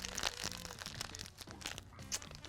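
Crinkly plastic crackling and rustling in quick bursts, up close, as a purple chip bag is squeezed and handled.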